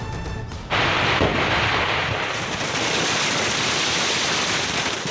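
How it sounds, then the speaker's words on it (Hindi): Dense, continuous roar of gunfire and gunpowder blasts at the all-night gunpowder Holi celebration in Menar, kicking in abruptly after a brief quiet moment and staying loud and steady throughout. "रात भर बारूद और गोलियां दागकर ऐसे ही जश्न मनाया जाता है"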